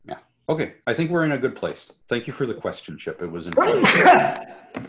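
A single sneeze cuts in near the end while people are talking.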